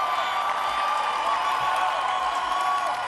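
Audience at a post-election reaction event applauding and cheering, a dense continuous wash of clapping and crowd noise from a live room, even in loudness across the short stretch.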